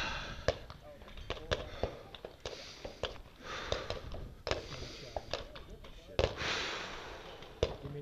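Gunshots at an IDPA defensive multi-gun match, a string of sharp reports in quick irregular succession, fairly distant and moderate, with people talking faintly in the background.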